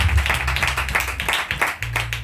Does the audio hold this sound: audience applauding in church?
yes